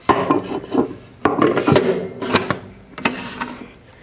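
Metal scraper blades slide into the barrel of an ice cream machine, producing a series of scraping, rasping rubs and sharp clicks in irregular bursts, close and fairly loud, with no talking.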